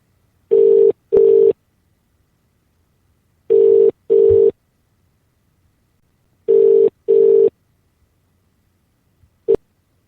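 An unanswered call to a late-night phone-in radio show rings back in three clear double-ring bursts, evenly spaced against silence, ending with a brief click.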